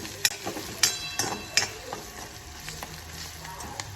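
A ghee tempering of cumin, mustard seeds, garlic and green and red chillies crackles and sizzles in a pan, with several sharp pops and spits early on over a steady frying hiss.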